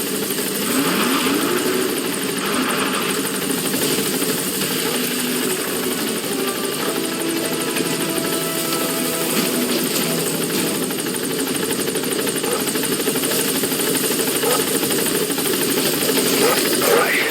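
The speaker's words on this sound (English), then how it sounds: "Support helicopter has arrived." Steady helicopter rotor and engine drone of a support helicopter arriving in Metal Gear Solid V fills the whole stretch, loud and continuous, with game background noise and a voice speaking now and then.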